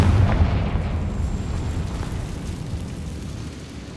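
A Confringo fire spell from Hogwarts Legacy bursts in a loud, deep explosion, its heavy boom rolling into a long rumbling decay.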